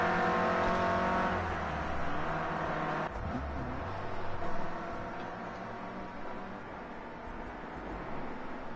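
Clio Cup race cars running bumper to bumper at Sportsland Sugo, engines droning and revving together in a steady close roar with shifting pitch as the pack drives on.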